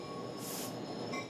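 A battery-operated LIRR commuter rail car rolls along the tracks, a steady loud rumble with a brief high wheel squeal partway through, heard alone without talk.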